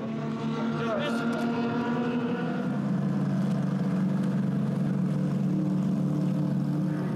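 Twin 8-litre Lamborghini engines power a racing powerboat, producing a loud, steady roar with a falling pitch sweep early on, continuous throughout, with faint talk underneath.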